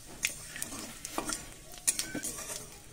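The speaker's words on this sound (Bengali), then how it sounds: "ফোড়নটা একটু ভালো করে ভাজা ভাজা করে নেব।" Bengali five-spice tempering crackles in leftover fish-frying oil, soft sizzling punctuated by scattered pops and the clink of a spatula stirring the pan.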